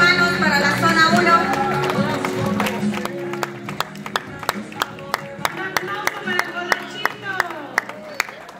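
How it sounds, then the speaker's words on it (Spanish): A church congregation breaks into applause, with scattered sharp claps settling into a steady rhythmic beat under continuing talk and a blend of voices. "Un fuerte aplauso, hermanos, para la zona 1."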